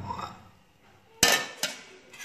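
Beef pieces dropped into a cooking pot for beef biryani, giving two sharp metallic clanks with a short clatter close by, then a fainter knock, after a quiet stretch.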